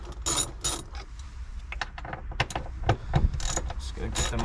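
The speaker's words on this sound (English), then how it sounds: "it's a T40 Torx to unscrew these." Clicks and ratcheting of a T40 Torx driver loosening fastener clips on a Jeep JL two-door, a steady stream of small close metallic ticks and rattles with no talking.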